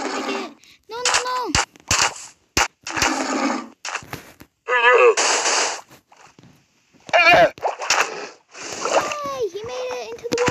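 An animal splashes into water in a video game, with quick splashy bursts and clicks scattered among chirpy game effects and pauses, while a voice talks through much of it.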